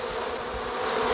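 A swarm of bees buzzes in a Family Guy cartoon scene, a steady, close hum lasting about a second with no talking.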